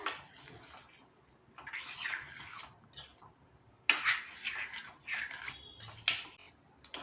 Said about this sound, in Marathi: मी अर्धा कप पाणी ॲड केलेलं आहे गरम करून